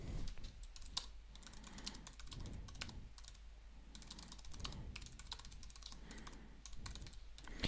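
Quick bursts of clicky keystrokes on a computer keyboard come in irregular clusters with short pauses, close and quiet, with no voices.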